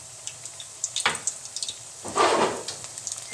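Pakoras sizzle in hot oil, coriander-stalk and onion fritters dropped into the pan, with soft crackling that swells into two louder bursts of frying and settles back to a gentle hiss.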